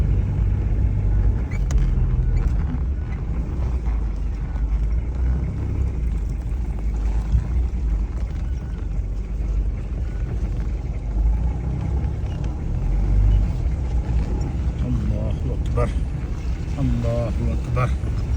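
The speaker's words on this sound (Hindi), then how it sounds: "लेकिन गाड़ी यहाँ भी पहाड़ों पे चढ़ती है" A car engine labouring up a steep, dangerous mountain road in Kashmir, a continuous heavy rumble with rattling and wind noise throughout, while someone talks over it.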